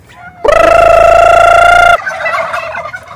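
A loud, close turkey gobble rings out for about a second and a half, followed by softer clucking and rustling from the flock.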